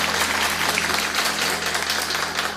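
A crowd claps steadily and loudly, a thick, continuous wash of many hands that holds an even level from start to finish without pause.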